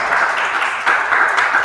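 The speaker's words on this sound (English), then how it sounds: "Give a big round of applause." A room of attendees at a coding-week event in Buffalo applauds the instructor with a short burst of brisk, close clapping that briefly dips and then picks back up.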